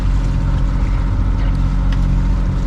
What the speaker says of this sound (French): Donc on a remis le moteur.